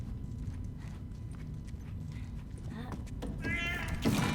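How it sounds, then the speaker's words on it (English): A cat meows in The Last of Us video game, a short bright cry near the end over quiet game ambience and faint footsteps, with a player's voice talking around it. "Oh, God! It's a cat."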